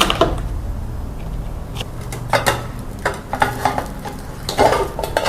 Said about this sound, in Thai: ก็จะใส่เนยเค็มลงไปนิดนึง